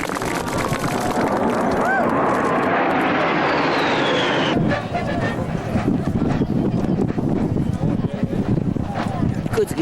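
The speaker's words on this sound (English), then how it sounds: "I present for you ICER 2-1 from the 5th Bomb Wing, Minot Air Force Base, North Dakota, the Boeing B-52H Stratofortress." A Boeing B-52H Stratofortress bomber from the 5th Bomb Wing roars overhead in a loud, sweeping flyover that peaks and then fades into a rumbling wash, with wind buffeting the microphone and voices around.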